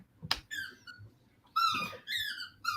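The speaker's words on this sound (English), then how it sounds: "That's my dog at the other end of the table playing." A dog at the far end of a table plays with a squeaky toy, giving a sharp thump and then repeated bursts of high squeaks, near and fairly loud with no talk over them.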